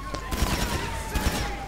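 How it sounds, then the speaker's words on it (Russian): Dense gunfire from a GTA 5 mod firing several bullets per shot crackles in a rapid volley, several shots blurring together with a steady tone running underneath. "Это несколько патронов сразу, короче, выстреливает."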